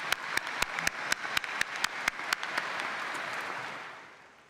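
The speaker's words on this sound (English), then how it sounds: "So you deserve an applause for that as well." A large spring commencement audience gives steady, distant applause, with one nearby pair of hands clapping in a sharp regular rhythm on top before the sound tapers off.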